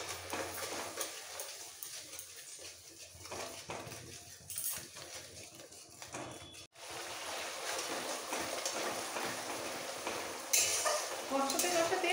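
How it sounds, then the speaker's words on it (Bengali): Green chili paste sautéing with small fish curry in a pan, a steady close sizzle with scraping stirs and utensil clinks running throughout, no talk. "এবার একটু কষিয়ে নিতে হবে"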